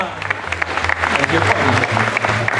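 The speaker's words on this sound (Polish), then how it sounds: "Oraz brawa, brawa, brawa!" Audience applause rings out at the results ceremony of a cooking contest, a close, steady patter of clapping with a low hum and murmuring voices beneath.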